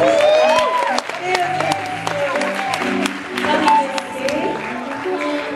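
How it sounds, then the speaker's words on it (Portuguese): A church congregation in Lisbon claps for the children, with lively applause and cheering voices rising together, fairly loud and close, with a voice calling out over it. "Palmas para as nossas crianças."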